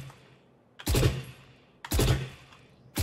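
Three separate short bursts of gunfire from Valorant, tap shooting, each a sharp loud crack with a decaying tail, spaced about a second apart and with no talk over them.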